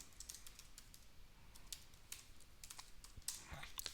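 Rapid key clicks on a computer keyboard while a password is typed, bursts of quick taps with short pauses, close and fairly quiet, no talk.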